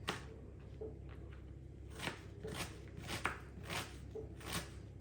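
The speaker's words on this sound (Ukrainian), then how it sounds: "Цибулю нарізаю просто міленьким кубиком." Quiet, irregular knife chops dicing an onion on a cutting board, a soft series of crisp taps and slices with low background hiss.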